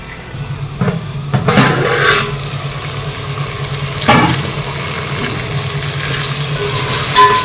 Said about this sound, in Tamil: தக்காளி வந்து கொஞ்சம் வதங்கிட்டு இருக்கு